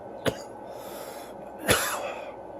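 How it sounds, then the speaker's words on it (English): A person coughs after a big hit from a packed smoke, one short sharp cough, then a longer harsher cough trailing into breathy rasping, close and fairly quiet. "I'm still kind of coughing from it though."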